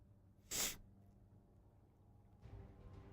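A single sharp sneeze bursts out close by in a quiet room, followed by faint shuffling.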